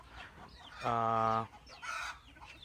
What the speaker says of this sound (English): We've got a chicken yard.